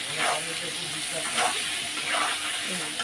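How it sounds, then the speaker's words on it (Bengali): Potatoes fry in hot oil with turmeric powder, giving a steady, fairly loud close sizzle broken by three soft stirring swishes as the pieces are turned in the pan. "এবার আলুটা লাল লাল করে একটু ভেজে নেব"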